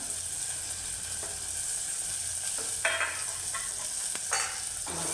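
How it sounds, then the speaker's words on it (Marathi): Thickly cut onion sautés in a pan for a kadve val khichdi. A soft, continuous sizzle runs throughout, broken by a few faint scrapes of stirring. "कांदा छान परतून घ्यायचा"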